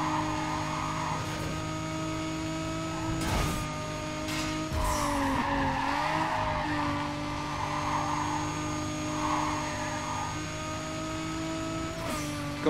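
Race car engine holding a high, sustained whine near its limit in fifth gear in Need for Speed Carbon, with brief skids and tire squeals cutting through.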